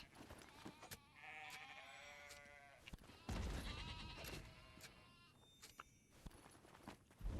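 Repeated sheep bleats from the video game Black Desert Online while gathering sheep hide, several overlapping cries at close range with game ambience and clicks between them, no talking.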